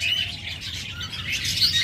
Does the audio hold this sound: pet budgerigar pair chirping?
yes